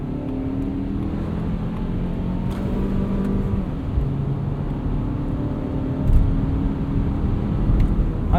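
A front-wheel-drive 2021 Mazda CX-30 with 181 horsepower pulls away on Continental VikingContact 7 winter tires in snow, its engine a steady low hum and rumble with a slight rise in revs as it gets going.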